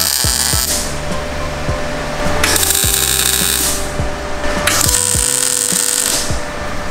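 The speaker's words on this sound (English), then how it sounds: "I'm gonna tack the plates into place." Tack welding steel plates onto the subframe of a 1JZ-swapped Mazda RX7. Two separate bursts of harsh, crackling hiss sound up close over a steady background hum, with short metallic ticks between them.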